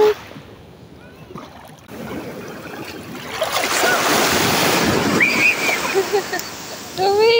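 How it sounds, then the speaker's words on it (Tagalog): Strong ocean surf at a beach in Terengganu, Malaysia: waves rush and break nearby with a wash of water and wind buffeting the microphone, and brief voices surface faintly toward the end. "The wave is so strong."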